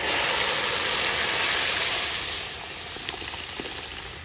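Red lentils tipped into deep-red fried onions in a hot pan, giving a steady, loud broadband sizzle that eases slightly after a couple of seconds and continues with faint crackles.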